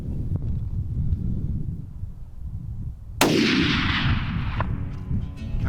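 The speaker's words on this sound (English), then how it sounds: "Got into a shooting position, got everything set, and I took my shot." A single loud rifle shot fired outdoors while hunting pronghorn antelope in open Western country, cracking suddenly over steady wind noise and trailing off in a long rolling echo.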